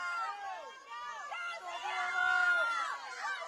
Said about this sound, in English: It adds to the broadcast when we hear people cheering.